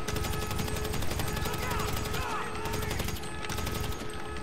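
Carbine rifle gunfire in a video game during an aircraft carrier mission, rapid continuous shots in a dense stream with game noise underneath and a voice talking over it.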